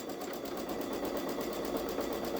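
A Babylock Solaris 3 sewing machine quilting edge to edge slowly on a sweatshirt with stabilizer gives a steady, fast, even stitching patter that runs unbroken throughout at moderate level.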